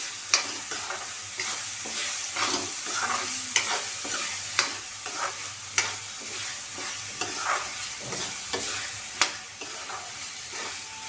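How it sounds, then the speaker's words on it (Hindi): Green peas sizzle and fry in cooked masala in a hot pan while being stirred, with steady loud crackling and repeated scraping strokes of a spoon, no voices. "मटर को भी हम अच्छे से भून लेते हैं"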